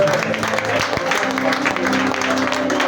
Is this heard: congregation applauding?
yes